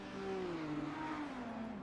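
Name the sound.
race car engine hitting the rev limiter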